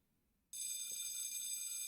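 Bells ring through a hospital ward, a sudden, steady, piercing electric ringing that cuts in after a moment of quiet and continues unbroken, bright and shrill over a faint low background.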